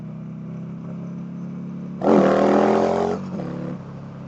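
A Buell Lightning Super TT motorcycle idles with a low, throbbing thump, then its engine revs sharply for about a second and settles back to idle, close and loud.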